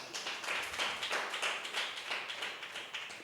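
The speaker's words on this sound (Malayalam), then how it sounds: "കൈയടി കൈയടിച്ചാണ്" Faint, fairly distant hand clapping comes in quick rhythmic bursts from a church gathering, heard as children are called up to receive notebooks.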